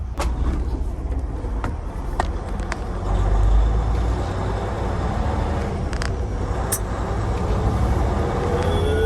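A truck rumbles loudly at close range, its low engine drone swelling as it begins to pull away, with faint clicks and hiss on top and no talking.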